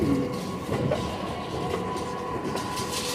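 A Delhi Metro train rolls along with a steady rumble and rhythmic clatter of wheels, a faint squeal rising now and then.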